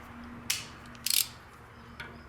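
Torque wrench tightening the lockring on a Shimano or SRAM rear bicycle cassette at 40 newton meters, with a few close, sharp clicks and a brief rapid ratcheting burst in the middle, alone without talk.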